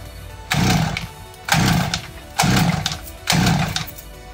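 Small gasoline engine running after a primer bulb repair, coughing and sputtering in four regular bursts about a second apart, close and loud, each surge cutting back to a quieter idle.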